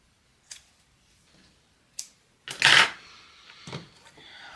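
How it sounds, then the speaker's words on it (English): Scissors cut miniature dollhouse vine pieces with a few sharp, close snips spaced apart, then a louder rustling burst as the cut pieces are handled. "Get these cut real quick."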